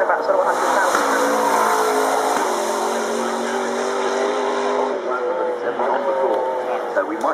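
A range-extender supercar with two electric motors and about 400 brake horsepower drives past at the Goodwood Festival of Speed, giving a loud, steady whine and drone throughout, with a voice talking over it.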